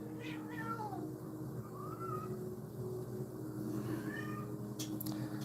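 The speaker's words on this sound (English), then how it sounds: "My cat's in here playing, going crazy." A cat meows several times in short, rising calls while playing indoors, close to the microphone over a steady low household hum, with no one talking.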